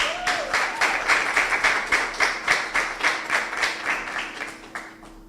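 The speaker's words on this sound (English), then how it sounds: "Give them a round of applause, please." An audience applauds a debate team at a debating tournament quarter-final, a steady run of clapping that stays fairly even, then tapers off after about five seconds.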